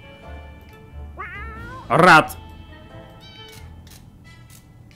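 A cat meows in the survival video game 60 Seconds!, one loud wavering meow rising over light background game sounds after a brief voice.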